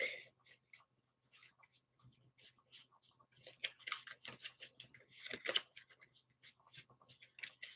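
A deck of tarot cards is shuffled by hand in a quiet room, producing close, soft, irregular riffling and flicking bursts that grow busier and louder midway, with no talking.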